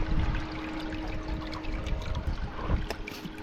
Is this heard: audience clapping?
no